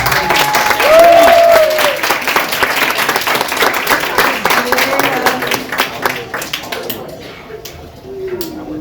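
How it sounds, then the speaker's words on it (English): A school band audience applauds a trombone player with brisk, scattered clapping and a cheer near the start, tapering off toward the end, while voices murmur throughout. "Let's give the trombone a round of applause"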